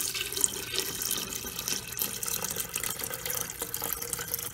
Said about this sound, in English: I'm going to pour that into the kettle,